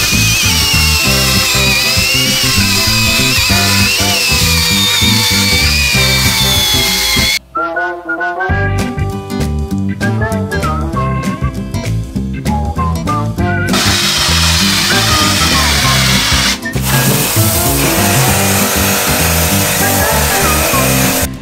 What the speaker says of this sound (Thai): ใครที่มีสว่านไร้สายนะเราก็ซื้อหัวขัดแบบนี้มาใส่นะครับแล้วก็เอามาขัดได้แบบนี้เลยครับ